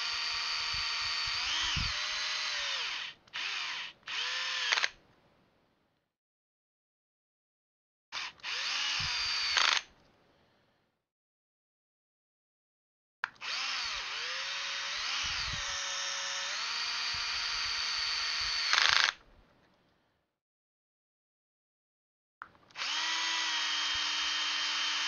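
A power drill driving screws into parts of a Traxxas X-Maxx RC truck during assembly, several loud sustained whirring bursts of a few seconds each, pitch shifting under load, separated by silent gaps.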